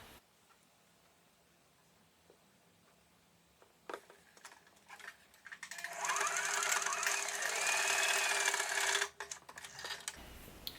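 Sewing machine backstitching a fitted face mask: quiet at first, then a short burst of stitching, followed by a longer, loud, steady run of rapid mechanical clatter that stops abruptly near the end.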